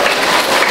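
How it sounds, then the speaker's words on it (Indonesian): Sustained applause from a church congregation during a sermon, a dense steady clatter of many hands clapping close by with no voices over it. "Nggak usah tepuk tangan"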